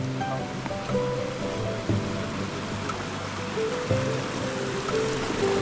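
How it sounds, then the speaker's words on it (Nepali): Water from a village spring line runs through a spout into a collecting spot in rural Nepal, a steady, close rush of flowing water with no voices. "धारामा जाने पानी चाहिँ यहाँ जम्मा भएर जाँदो रहेछ"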